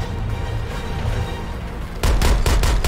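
Gunfire in the action video game Suicide Squad: Kill the Justice League, a steady clatter of combat noise and music that breaks into several loud, booming shots in quick succession near the end.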